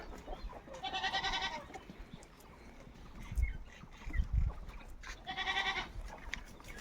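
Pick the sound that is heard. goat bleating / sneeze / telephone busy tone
goat bleating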